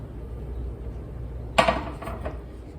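A metal muffin pan for jumbo blueberry muffins is set down on a counter, one sharp metallic clank followed by a couple of softer rattles, close up over a quiet kitchen hum.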